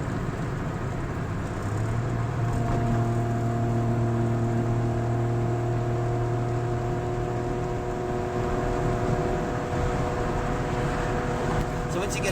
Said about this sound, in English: In the lower gears, it doesn't have enough load on the engine, so you hear it putting